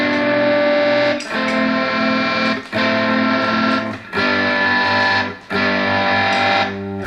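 Electric guitar through a Boss DD-3 delay pedal plays sustained, distorted chords that ring out with metallic delay repeats, struck five times at a steady, loud pace with no talking.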